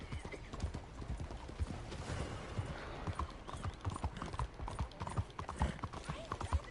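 Steady clip-clop of horse hooves at a slow walking pace in Red Dead Redemption 2, faint and even, with a soft mechanical backdrop and no talking.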